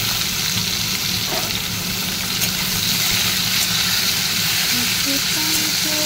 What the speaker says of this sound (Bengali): এবার ভাজবো উচ্ছে।